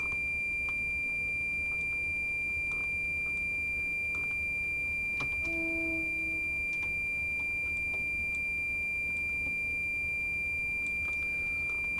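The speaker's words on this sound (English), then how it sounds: "that's an incessant ringing." A warning alarm in the cab of a Virgin Pendolino train in Train Simulator Classic rings as one unbroken high electronic tone through the whole stretch, with faint clicks and a brief lower beep partway through.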